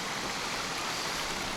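A waterfall at Cilaos on La Réunion pours into a bathing pool below, a steady broad hiss of falling water heard from a distance, unbroken and even throughout.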